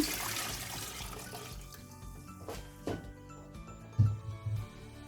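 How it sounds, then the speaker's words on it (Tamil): About 600 ml of water poured into a cooking pot while making Aadi Koozh with roasted green mung beans: a steady, moderately loud rushing splash that tapers into softer trickles and a few drips, with no talking. "600 ml தண்ணி விடுறேன்."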